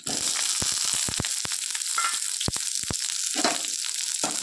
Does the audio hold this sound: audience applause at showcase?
no